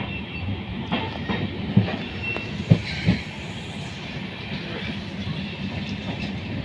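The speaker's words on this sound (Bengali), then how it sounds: "নসিপুর ব্রিজের ওপর দিয়ে আমরা চলেছি সায়ন অ্যান্ড কলকাতা এক্সপ্রেস" The Sairang–Kolkata Express rolls across the Nashipur rail bridge over the Ganges, a continuous rumble with a few sharp wheel clanks on the rail joints, heard from inside the train.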